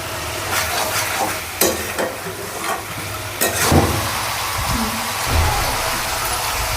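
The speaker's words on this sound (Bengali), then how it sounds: "আদা দিয়ে আবার মিনিট 5 নাড়াবো, যাতে আদাটা ঠিকঠাকভাবে মাংসের সাথে মিশে যায়" Mutton in a pan with salt, garlic and ginger being stirred, giving a steady sizzle with scraping strokes of the spatula and a few louder knocks against the pan.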